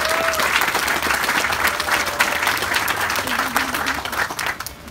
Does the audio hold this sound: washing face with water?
no